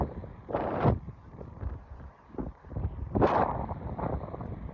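Wind buffets the microphone in heavy, uneven gusts outdoors in Szczecin, Poland, with low roaring rumbles that swell and fade, two strong blasts standing out.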